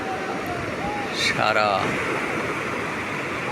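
Sea waves wash steadily onto Cox's Bazar beach on the Bay of Bengal, a continuous broad surf hiss with a voice briefly heard partway through.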